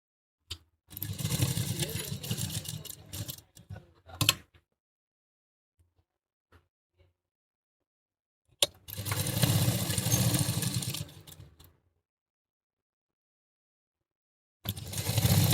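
Sewing machine stitching an A-line gown, running in two long loud bursts and starting a third, separated by near silence with a few faint clicks.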